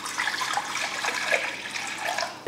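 About one and a half cups of water pour into a kadai in a continuous, close splashing stream lasting a couple of seconds.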